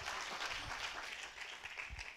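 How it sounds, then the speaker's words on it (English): Audience applause fills an auditorium at a medical cannabis conference in Lisbon, a steady dense clapping from a large crowd that holds at an even level throughout, with no voices over it. "Now another applause, please."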